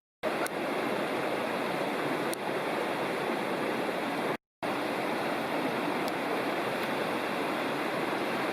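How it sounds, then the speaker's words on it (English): Jakes Creek in the Great Smoky Mountains rushes steadily beneath a trail bridge, a dense, even hiss of flowing water heard close, with a brief gap partway through. "Crossing Jakes Creek"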